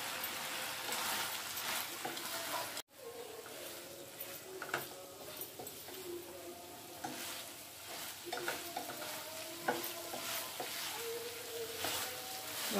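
Chicken 65 pieces sizzling in a hot pan while being stirred and tossed, a steady crackling fry with scraping spoon strokes and a sharp knock near the start, close and fairly loud.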